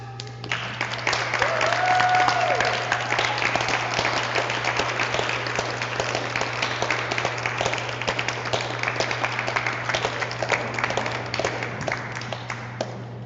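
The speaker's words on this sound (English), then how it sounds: "Let's have a round of applause for all the poets we've heard so far." An audience at a poetry reading applauds steadily, a dense wash of many hands clapping that swells early and holds for over ten seconds, with a low steady hum underneath.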